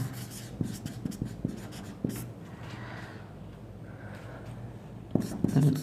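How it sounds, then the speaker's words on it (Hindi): Chalk or a marker writes on a board during a classroom history lesson, making a series of short scratchy taps and strokes, fairly close, with faint speech-like murmurs near the end. "तो चलिए यहाँ पे लिख देते हैं"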